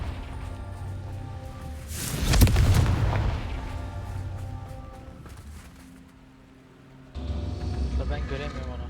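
A Confringo spell explosion in the game Hogwarts Legacy, a single deep booming burst that swells and slowly dies away over a steady game ambience, with a voice speaking nearby.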